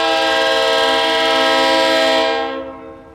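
A freight locomotive horn on an industrial track blares in a long sustained chord, loud and steady, then fades away toward the end.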